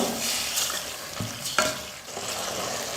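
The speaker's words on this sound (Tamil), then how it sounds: "ஒரு அஞ்சு நிமிஷம் எண்ணெயிலே வந்து மட்டன் நல்லா வேகணும் அப்பப்போ கலந்து விட்டுகிட்டே இருக்கலாம்" Mutton coated in ginger garlic paste frying in hot oil, a continuous close sizzle with a couple of sharp spoon scrapes as it gets stirred.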